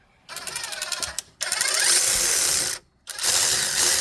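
Brake bracket bolts on a 2007 Saturn Ion being driven by a power tool: three loud, close bursts of whirring ratcheting with short pauses between them, no talking.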